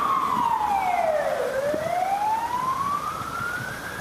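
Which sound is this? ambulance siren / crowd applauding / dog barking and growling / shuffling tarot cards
ambulance siren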